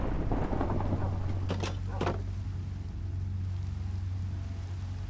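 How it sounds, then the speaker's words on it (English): Steady rain falls in the video game Minecraft, a dense, continuous wash of hiss that holds at an even level throughout, with a few brief soft knocks early on and no talking. "Well, I slept and it didn't change the rain, so I guess we're stuck with the rain."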